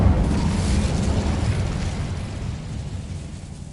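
An Incendio fire spell in Hogwarts Legacy gives off a steady, loud, roaring blast of flame that slowly fades over a few seconds, with no voices over it.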